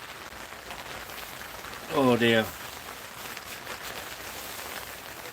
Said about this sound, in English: I hope the weather's better in Israel than it is here when it's pouring down with rain